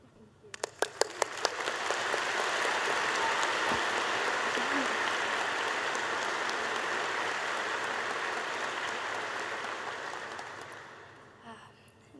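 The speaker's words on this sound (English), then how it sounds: "Let's give her another round of applause" A crowd applauds Dr. Biden at an event with U.S. troops, starting with scattered claps, swelling into sustained, dense clapping, then fading out near the end.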